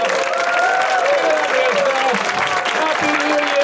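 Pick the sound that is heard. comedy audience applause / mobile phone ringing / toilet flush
comedy audience applause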